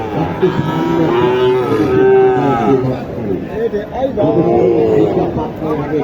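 Cattle low repeatedly at a livestock market, long drawn-out moos rising and falling, loud and close, with a busy crowd murmuring in the background.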